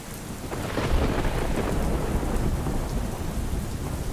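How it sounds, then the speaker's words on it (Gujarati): Heavy night rain pours over Banaskantha, Gujarat, as a dense, steady roar with low thunder rumbling through it; no voices. "બનાસકાંઠામાં ધોધમાર વરસાદ વરસ્યો છે"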